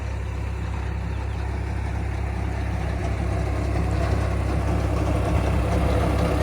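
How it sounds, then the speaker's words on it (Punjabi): A tractor engine idles close by on arrival, a loud, steady low diesel rumble that runs unbroken with no talk over it. "ਲਓ ਜੀ ਕਰੋ ਟਰੈਕਟਰ ਦੇ ਦਰਸ਼ਨ ਪਹੁੰਚ ਗਿਆ"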